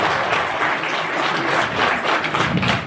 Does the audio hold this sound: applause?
yes